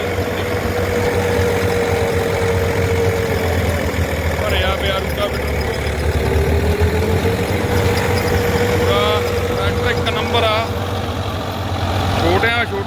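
A heavy Swaraj 843 XM tractor engine pulling a rotavator drones steadily and loudly at close range, a constant low rumble with someone speaking intermittently over it.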